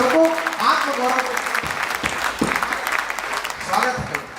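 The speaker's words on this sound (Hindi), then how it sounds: "पूरे सदन को एक बार जोरदार तालियों से" Audience at a Hindi poetry recital claps steadily through the whole stretch, a full-room round of applause with scattered voices and cheers mixed in.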